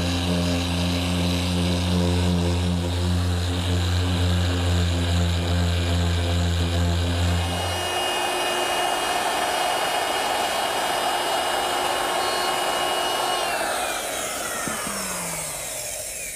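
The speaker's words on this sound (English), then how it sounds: "I'm also going to use the same sander to do the top itself" A random orbit sander works across a wooden tabletop, giving a loud, steady motor whine that shifts to a rougher, airier tone about halfway through and runs without a break, with no talking.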